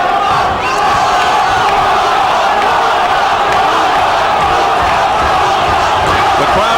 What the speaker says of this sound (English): Crowd chanting Popo, which is the nickname for Freitas